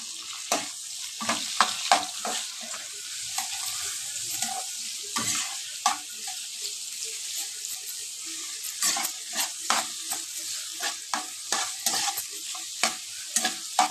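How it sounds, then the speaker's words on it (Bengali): Chopped onions fry in a pan, cooked wedding-style until reddish, with a continuous sizzle under frequent sharp clicks and scrapes from stirring, some loud and close, spaced irregularly across the stretch. "সেইভাবে পেঁয়াজগুলোকে বেশ ভাজতে হবে পেঁয়াজগুলো ভাজা ভাজা হোক"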